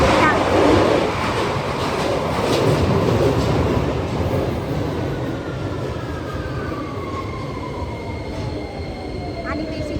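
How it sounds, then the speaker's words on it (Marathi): A London Underground train pulls into the platform with a loud, continuous rumble and rising wheel squeal, its clatter steady throughout and gradually easing as it slows. "सो आता माझी ट्रेन येते आहे, ही आहे अंडरग्राऊंड ट्रेन"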